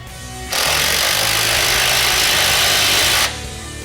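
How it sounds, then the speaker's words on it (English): An impact wrench with a 15mm socket tightens an exhaust clamp on a 2012-2018 Jeep Wrangler during a MagnaFlow loop delete pipe install, one loud, close, continuous rattling buzz lasting under three seconds. "Tighten the clamp with a 15mm socket."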